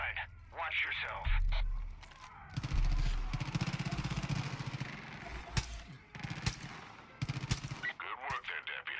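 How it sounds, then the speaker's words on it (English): Bursts of rapid automatic gunfire crackle through a busy Far Cry 5 game soundscape, loud and repeated, with voices talking over parts of it. "Is that gunfire?"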